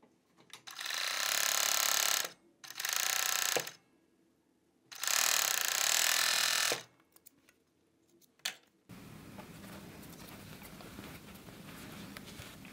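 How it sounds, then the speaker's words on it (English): A four-thread Jack overlock serger stitches a ribbed sweatshirt sleeve cuff in three loud, whirring bursts of a couple of seconds each, separated by short pauses, before the machine falls silent. "Keep right sides together and serge here."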